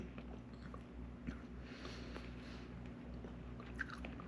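Faint, close chewing of a gumboot chiton, a shellfish caught on a remote island, with soft wet bites and occasional crunchy clicks repeating steadily against a low background hum.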